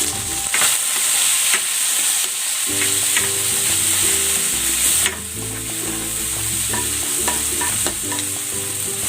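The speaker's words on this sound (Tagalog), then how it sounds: "Gigisa ko na rin tong kamatis." Tomatoes and onions sauté in a hot pan, giving a constant loud sizzle with a sharp surge partway through as more goes in, plus the clatter of a spatula stirring.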